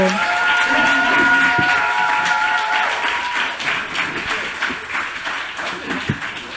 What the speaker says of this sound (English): Can we have another big round of applause for Danez and Nicole?